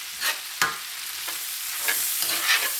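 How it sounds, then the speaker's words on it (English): Onions sizzle and fry in a big iron pan as a utensil stirs them, giving a steady hiss with a few scraping strokes. The sound is close and clear, with no talking. "Get a good glaze on those onions."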